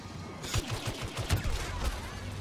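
Rapid blaster laser fire crackles in bursts during a Star Wars Battlefront beta match, a string of sharp shots close behind amid a steady noisy battlefield din, with no talking.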